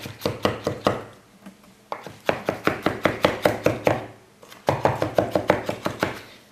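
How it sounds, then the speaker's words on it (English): A knife finely chops garlic cloves on a board in quick rhythmic bursts of sharp taps, three runs separated by brief pauses, close and clear. "Chop that up really finely. Really, you're going to be mincing it."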